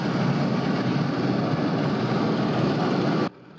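A simulated Black Hawk helicopter takeoff and landing plays in a military combat casualty care training building, a loud, dense, steady roar of rotor and engine noise that cuts off abruptly near the end.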